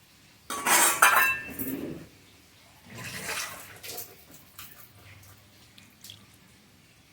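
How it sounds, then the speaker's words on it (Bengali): Water poured into a pan of ridge gourd and potato curry, a loud splashing pour with a clink, then a softer second pour and bubbling, heard close with no talk. "এবার এর মধ্যে পরিমাণ মতো জল দেবো।"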